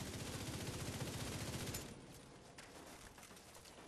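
Sustained automatic gunfire from a firefight in The Division 2 video game, a dense rapid burst for nearly two seconds that drops to quieter scattered shots and battle noise.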